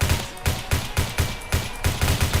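An L22 light machine gun fires in Phantom Forces with a rapid, steady string of about a dozen loud, evenly spaced shots in close succession, with no talking.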